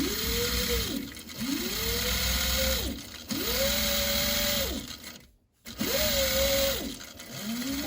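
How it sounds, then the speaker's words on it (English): A sewing machine runs in four separate bursts while back tacking a seam on a bag, each a steady motor whir rising and falling, with a brief silent gap between the third and fourth runs. "Doing a back tack at the bottom there."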